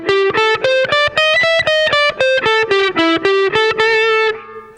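A distorted electric guitar picks a steady run of minor blues notes in a 12-bar blues soloing context, each note clearly struck in an even rhythm, loud and close, ending on a fading note.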